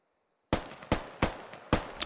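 Four sharp, separate gunshots crack out in a video game firefight as enemy soldiers take pot shots, spaced about a third of a second apart after a brief silence, each with a short decaying tail.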